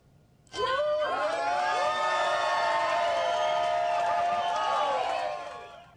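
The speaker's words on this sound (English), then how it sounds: "That's the sound of about 100 people cheering for the former president at a Waffle House in Columbus," A crowd of about 100 people cheers for a former president inside a Waffle House in Columbus, a sustained loud roar of shouts and whoops that rises abruptly and holds for several seconds before fading.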